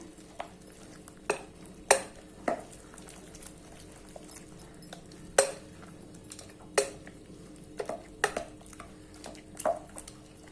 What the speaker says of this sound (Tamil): இப்போ நான் ஒரு மத்து வச்சு நல்லா மசிச்சு விட்டுறேன்